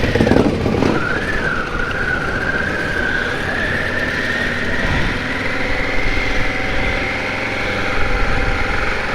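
A motorcycle engine hums steadily on a winter ride near Whitby, Yorkshire, with a rising mid-pitched drone as the bike accelerates, mixed with constant wind and road noise up close.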